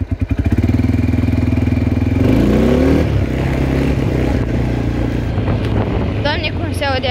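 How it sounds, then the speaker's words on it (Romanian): A loud ATV engine idles with a rapid chugging pulse, then revs up and holds at a higher pitch close by, with brief higher whines near the end. "cum se aude acest motor față de acela de 50"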